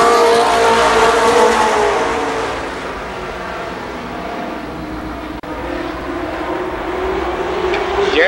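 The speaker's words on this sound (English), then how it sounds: "The leader of lap number 1 will be Bobby Fye." Race cars roar around the oval at Columbus Motor Speedway in 1993, a loud continuous engine drone that swells and fades as the pack passes, with a track announcer talking over it.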